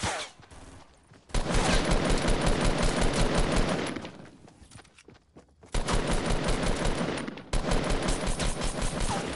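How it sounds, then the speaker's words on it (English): Two long bursts of rapid automatic gunfire in a PS4 game, close and loud, separated by a quieter gap with scattered shots and a faint thump. "He's shooting."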